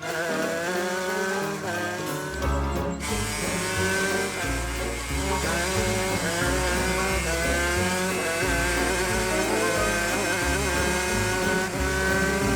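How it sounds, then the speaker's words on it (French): A cartoon race car engine, a loud continuous revving roar that rises and falls in pitch over a bright musical score, with a short pause near the start before the revving drives on steadily. "Transforme-toi en voiture de course aussi."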